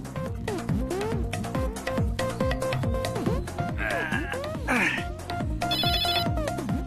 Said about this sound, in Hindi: अरे भैया इनका तो फोन बज रहा